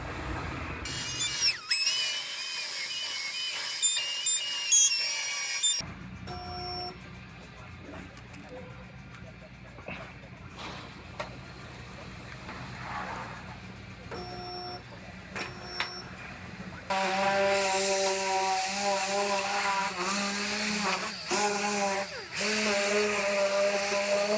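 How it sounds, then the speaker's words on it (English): Welding a replacement trunk floor panel into a Honda CR-V, heard as bursts of crackling, buzzing arc with short pauses between welds, and workshop noise in the background. "I got this floor all fit up, ready to weld."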